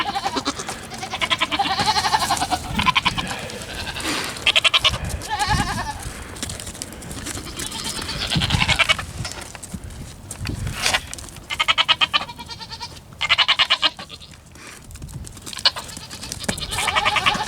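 Goats bleating in a pen on a small farm, including a goat that is still being milked; repeated close bleats and animal calls come in bursts over steady farmyard background noise, with no talking.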